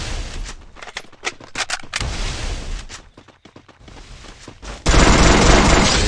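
Rapid automatic gunfire in the Garena Free Fire battle royale game, loud and close, with dense stuttering bursts and brief pauses, ending in a sustained roaring blast.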